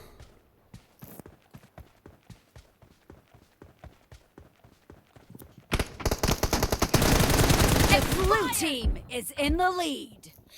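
Gunfire in PUBG Mobile comes as sharp rapid shots, first in sparse bursts, then a dense, loud sustained volley with a voice shouting over it near the end.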